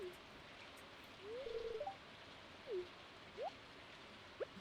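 Soft, steady rain in Stardew Valley hisses faintly and evenly throughout, with a few short chirping tones rising above it now and then.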